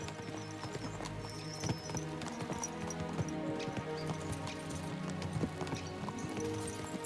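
Horses galloping in Kingdom Come: Deliverance II, with a steady clip-clop of hooves running continuously throughout over a dense backdrop of game music and ambience, with no talk.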